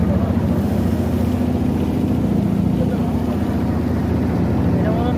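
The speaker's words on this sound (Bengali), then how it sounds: "আমরা নৌকা দিয়ে যাইতেছি" A boat travels along a river, its motor giving a continuous loud low droning hum with steady engine pulses throughout, set against a broad wash of water and wind noise.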